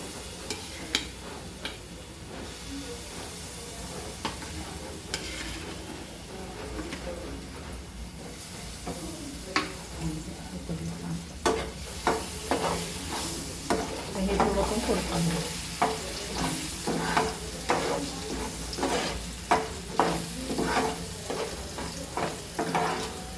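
Roasted, ground masala paste for sukka chicken sautés in hot oil, a hissing sizzle broken by repeated scraping and stirring strokes that grow louder and more rhythmic in the second half, with no talk.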